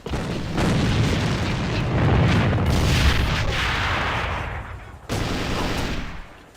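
Grenade blasts in a multiplayer first-person shooter game come as a series of heavy, rumbling booms with low-end thumps that trail off between hits, loud and close, with a sharp cutoff near the end.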